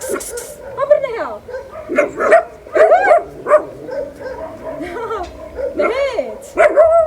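A dog close by gives a run of short barks, yips and whimpering whines in uneven bursts, with people's voices mixed in.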